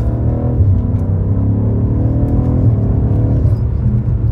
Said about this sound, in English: let's do a little nice downshift